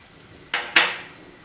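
Spinach, mushrooms, capsicum and tomato go into a pan of softened onion for a Spanish omelette, making two quick clattering knocks of food and utensil against the pan, fairly close, in an otherwise quiet kitchen.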